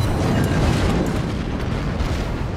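Ship guns firing in World of Warships make a dense, continuous roar of overlapping booms and rumbling blasts, loud and steady throughout with no clear gaps.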